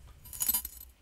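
A bunch of keys jangles in a room, producing one short, bright metallic jingle that swells and fades within about a second, close to the microphone with no talking.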